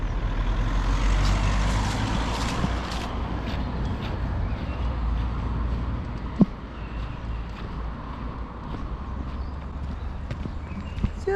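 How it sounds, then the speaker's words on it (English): Cars drive past on a road near a forest park, a steady low rumble of traffic carrying throughout, with one sharp click partway through and no clear talk. "There's buzzing here today with cars."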